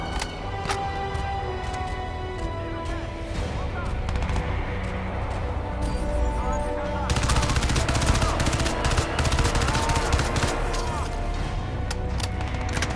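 Gunfire rattles in the first-person shooter game Crysis 2 as steady automatic bursts under loud game action, growing denser and heavier partway through.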